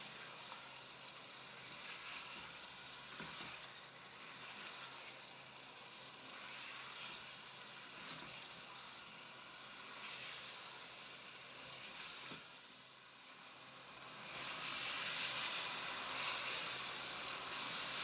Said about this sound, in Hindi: और आलूओं को भी मीडियम फ्लेम पे भूनते जाएंगे।